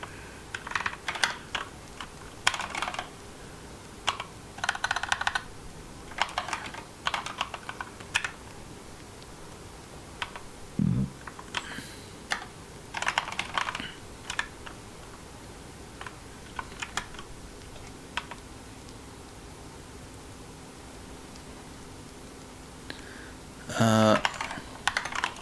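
Computer keyboard typing during a coding session, coming in bursts of rapid clicks separated by pauses, moderately close, with a brief louder clatter near the end and no talk.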